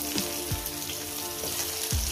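A single cut potato fries in oil with a steady close sizzle, broken by a few low thumps as pieces are stirred or turned.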